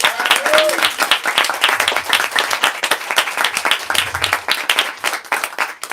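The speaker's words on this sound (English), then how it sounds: "Let's give a real warm round of applause for all the workers here at Books Are Magic." Warm applause from an audience for the workers at Books Are Magic bookstore during an author event, dense steady clapping lasting several seconds with some voices mixed in.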